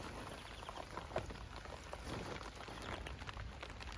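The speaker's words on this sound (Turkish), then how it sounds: "Yağmur yağıyor." Rain falls steadily and quietly on a village garden, a soft continuous patter with a few nearby drips and taps, no voices.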